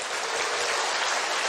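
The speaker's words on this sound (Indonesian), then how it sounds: "Karena saya telah menyebut Presiden Park, mari kita berikan tepuk tangan untuk beliau sekarang" An audience at a speaking event breaks into dense, steady applause, with brief clapping that stays even throughout and no voices.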